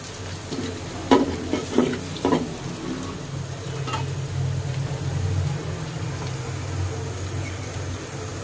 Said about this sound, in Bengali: তো এখন একটু নাড়া দিব